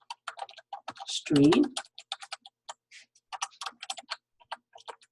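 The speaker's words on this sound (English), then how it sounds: "I have to look down at the desk to see what I'm typing" Rapid, uneven keystrokes on a computer keyboard clatter in close bursts, while a person briefly speaks partway through.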